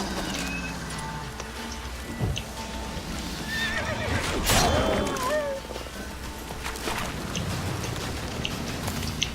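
A horse in The Witcher 3 video game whinnies and neighs repeatedly amid clip-clopping hooves and steady outdoor game ambience, with a louder neigh near the middle.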